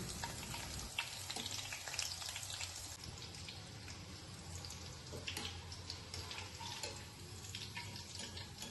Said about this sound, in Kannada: ಸೇಮ್ ಅದೇ ರೀತಿ ಒಂದೊಂದಾಗಿ ಮತ್ತೆ ಫ್ರೈ ಮಾಡ್ಕೋತಿದ್ದೀನಿ